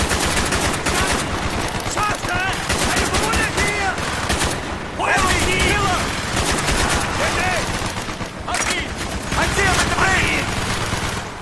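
Heavy automatic gunfire in the Xbox 360 game Call of Duty Black Ops, Project Nova mode, loud sustained bursts with brief gaps, soldiers' voices shouting over the shooting.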